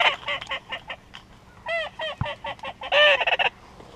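Geese honk repeatedly nearby during a hunt, bursts of harsh overlapping calls with a brief thump midway.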